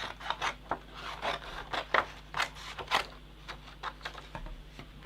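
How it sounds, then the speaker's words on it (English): Scissors snipping through a piece of card to cut out a shape, a quick run of crisp, closely spaced cuts with short pauses between them, close and moderately loud with no talking. "let's start off with a piece of card. And what I'm going to do is just going to basically cut out a shape."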